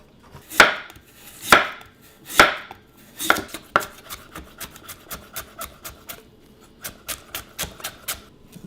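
A knife chops vegetables into matchsticks for kimchi on a board, first a few heavy, spaced strokes, then a quicker, lighter run of crisp cuts, close and distinct with no talking.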